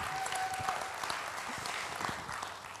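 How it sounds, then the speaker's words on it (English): An audience at a faith-centered talk gathering claps for someone speaker, a continuous, soft, slightly distant spatter of many hands lasting nearly three seconds, with no talk over it. "Let's give her another round of applause because she's beautiful."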